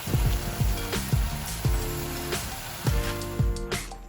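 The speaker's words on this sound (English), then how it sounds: "While our meat is browning," Ground beef browns in a pan for baked ziti, giving a steady crackling sizzle with small popping bursts, heard close and alone with no talking.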